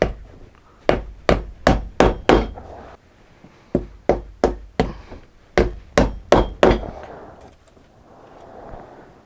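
Hammer driving nails through the base and double midsole of Colombian-made stitchdown boots, clenching them into the insole: three clustered bursts of five or six sharp, loud, evenly spaced blows, close by, with brief quiet gaps between volleys.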